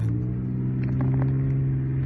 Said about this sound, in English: You got the loud exhaust